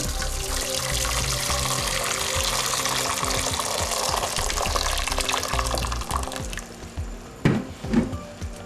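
Six glasses of water gush steadily into a pot for boiling pasta with a continuous splashing rush, then trail off into a few drips and clinks.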